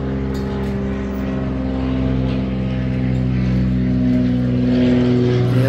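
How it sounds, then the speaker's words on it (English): A propeller airplane drones over a harbor on a tropical island near Sint Maarten, a steady low hum that builds gradually and fills the whole stretch without speech. "airplane right there."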